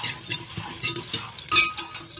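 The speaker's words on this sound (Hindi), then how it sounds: "हुण आपां इहदे विच पावांगे जीरा" Cumin seeds and finely chopped garlic sizzling in a cooking pot, a crackling fry with stirring scrapes and clinks of a spoon against the pot, close and fairly loud, with a brighter burst of sizzle partway through.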